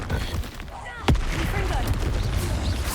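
Bombarda spell blasts in the video game Hogwarts Legacy, a sharp booming impact standing out amid dense, busy battle noise with voices.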